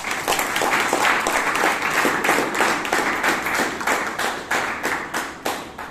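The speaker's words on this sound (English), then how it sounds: "So Toastmasters, let's give our guests a wonderful round of applause." A Toastmasters club meeting in Bangalore gives its guests a round of applause, a small room of people clapping in a fairly quick, uneven rhythm with distinct slaps, loud and close, tapering slightly toward the end.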